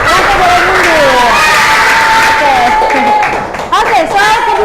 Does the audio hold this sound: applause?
yes